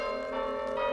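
A church bell peal rung by the verger and bell ringer in a village church tower, heard as a sustained ringing tone, steady and fairly loud with no voices.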